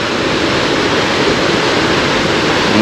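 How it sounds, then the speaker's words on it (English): Loud, continuous rush of a swollen river pouring through a washed-out pool area after a flood, a dense roar with no pauses and no voices. "It's just running water now."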